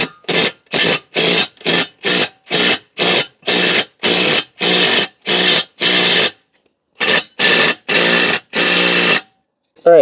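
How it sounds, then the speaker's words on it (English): Power drill driving a screw into a wood post set on concrete, heard as a rapid series of short loud bursts, a pause, then several longer bursts close up. "I'm going to go ahead and screw this in now."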